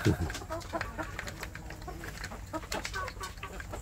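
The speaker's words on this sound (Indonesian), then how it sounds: "saya memberi makan anak ayam kampung saya" Free-range native village chicken chicks cheep and cluck in a busy farmyard at feeding time, with soft rustling and scattered peeps over a constant background murmur.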